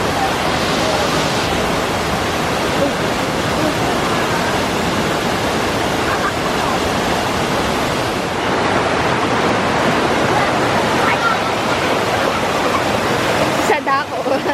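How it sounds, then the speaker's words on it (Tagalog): A waterfall along the Pandurucan trek in Occidental Mindoro gives a loud, unbroken roar of falling water heard up close for the whole stretch. "Ganda ng falls."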